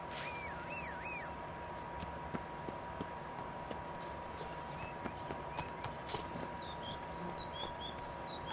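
Horse hooves clip-clop at a steady walking pace in the game Witcher 3 Blood & Wine, fairly faint and close, with bird calls and caws scattered in the background.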